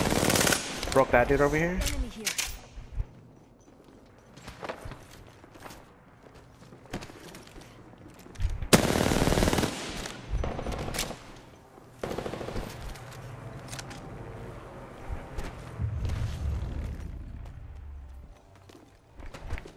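Rapid bursts of gunfire, footsteps and clattering action in an Apex Legends match, with loud automatic volleys early and midway and quieter shots between, while players talk over the sounds.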